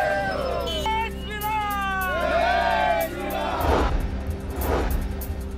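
Party workers celebrate a BJP election victory outside a Sangli office with loud crowd whoops and cheering, set against a steady hum and background noise, with more voices crowding in toward the end.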